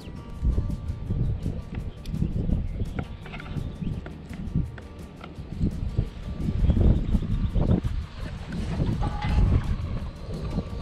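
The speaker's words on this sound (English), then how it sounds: "The wind's blowing." Wind blows outdoors as continuous low rumbling gusts buffeting the microphone, with scattered clattering and thumping noises throughout at a fairly loud level.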